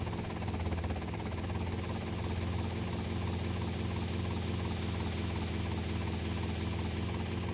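A helicopter engine in GTA Vice City drones steadily with a dense, low rotor-and-engine hum that holds at an even loudness throughout, with no voices.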